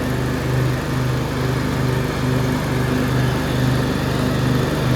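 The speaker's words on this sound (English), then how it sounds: "And now we're mowing the lawn." Briggs & Stratton V-Twin riding lawn mower engine running steadily while mowing, a loud, close, even drone with a low throbbing pulse and no change in pitch, no voices.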